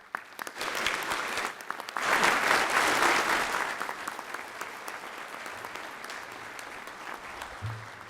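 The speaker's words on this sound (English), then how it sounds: "Please, round of applause for all these inductees." An audience applauds honor society inductees at a university honors convocation, the clapping swelling into a full, dense burst before easing to a steady, gradually fading patter.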